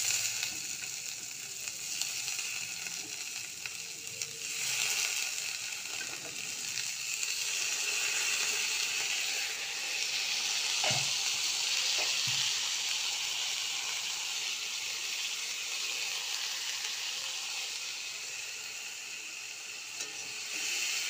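Ivy gourds (kundri) sizzling steadily in hot spiced oil in a pan, a continuous close frying hiss with a couple of faint stirring knocks, no voices.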